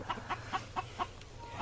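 A rooster clucks in a quick, evenly spaced series of about six soft clucks, faint and close, over a low background hum.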